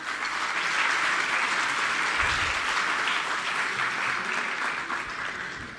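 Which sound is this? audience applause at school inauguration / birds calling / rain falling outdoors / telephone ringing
audience applause at school inauguration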